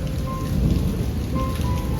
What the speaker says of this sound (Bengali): ওদিকে দূরের আকাশে প্রচন্ড মেঘ, কিন্তু এদিকের আকাশে প্রচন্ড রোদ্দুর, তার মধ্যে ঝমঝমিয়ে বৃষ্টি পড়ছে।